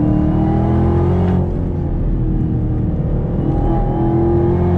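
A 2019 Chevrolet Camaro ZL1 with a 10-speed automatic accelerates hard and downshifts, its loud engine holding a deep, steady drone with a brief shift dip near the start.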